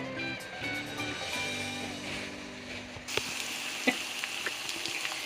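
Ginger fries in oil on a home stove before chicken goes in, a soft, fairly quiet sizzle that brightens partway through, with a steady background hum and a few light clicks of a spoon.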